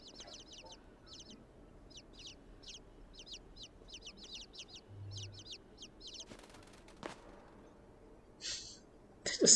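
Caged birds cluck and chirp in repeated quick bursts through a factory scene in the video game Inside, with a steady low ambient hum underneath and a few louder bumps near the end.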